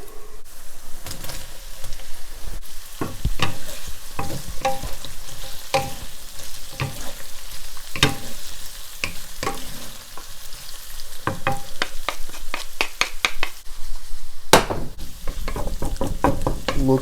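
Salt and pepper shrimp fry in hot oil with a dense, continuous sizzle, punctuated by frequent scraping and clacking from stirring in the pan.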